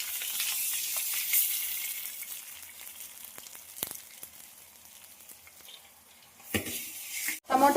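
Tomatoes and eggs fry in a pan for a drumstick curry, giving a soft, steady sizzle up close with a few faint scrapes and a louder rustling clatter near the end.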